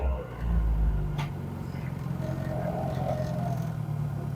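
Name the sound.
Morris car engine idling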